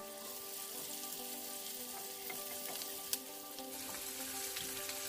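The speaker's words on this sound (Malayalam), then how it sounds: "ഇനി ഇത് ഫ്രൈ ആയി വരാൻ വേണ്ടി നമുക്ക് ഒരല്പനേരം വെയിറ്റ് ചെയ്യാം" Sliced bitter gourd fries in oil in a non-stick pan, a quiet, steady sizzle with a soft crackle and one small pop, close up with no talking.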